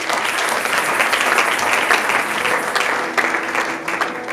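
A conference audience claps in a dense, sustained burst of applause that stays loud and even throughout, with faint crowd voices underneath.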